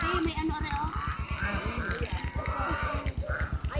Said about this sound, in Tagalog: yan ay masarap ang tubig at yan ay ano, running uh, flowing water